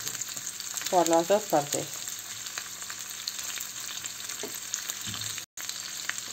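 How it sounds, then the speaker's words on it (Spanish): Large prawns with garlic frying in a pan, a steady sizzle running throughout with a brief burst of speech near the start and a short dropout near the end. "sería el momento de añadir los gambones. Los vamos a ir dando la vuelta para que se vayan cocinando"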